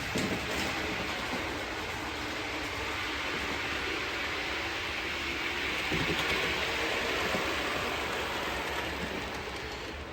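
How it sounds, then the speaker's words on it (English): A DCC model train locomotive runs along layout track, giving a steady, even rolling hum with faint rhythmic clicking that continues unbroken, with no voices. "The simple way to find out is park the carriages and run the loco, isn't it?"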